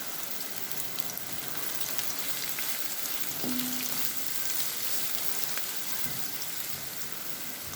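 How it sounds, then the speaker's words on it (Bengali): Onions frying in ghee for birista for a chicken biryani: a dense, even crackling sizzle that runs throughout at moderate loudness, with a short faint tone partway through. "বেরেস্তাটা ভেজে একটু বেরেস্তা বানানো, একটু ঘি দিয়ে দেয়।"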